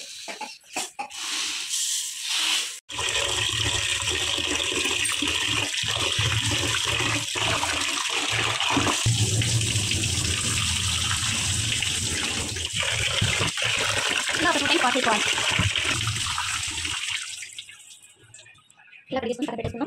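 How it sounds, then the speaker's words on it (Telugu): Rice being washed in water, a steady loud rush of running water with splashing that drops out briefly near the start and fades toward the end. "250 ml కప్పులో 4 కప్పులు రైస్ కడిగేసి పక్కన పెట్టేసుకుందాం."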